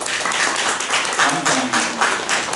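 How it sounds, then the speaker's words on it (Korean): A church congregation claps to welcome newcomers during a Sunday service, a dense, lively wash of many hands sustained for a couple of seconds, filling the room at close range. "박수로 환영합시다."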